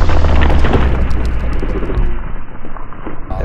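Dynamite detonating inside a ballistic gel head during a high-speed filming session: a single loud, broad blast that fills the clip, with a sustained rumbling roar slowly decaying toward the end.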